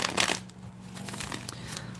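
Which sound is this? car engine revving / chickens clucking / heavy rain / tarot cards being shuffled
tarot cards being shuffled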